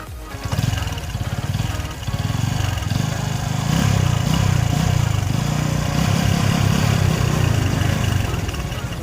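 A motorcycle engine with a stock exhaust pipe idles nearby with a steady, fairly quiet exhaust burble, then picks up slightly and keeps running continuously.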